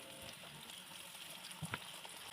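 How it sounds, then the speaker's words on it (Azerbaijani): Chicken wings fry in hot oil in a pan, giving a soft, steady sizzle with a couple of brief louder pops near the end, faint and without talk. "Videoda gördüyünüz bu işləmi təkrar edərək qanadlarımızı qızardırıq"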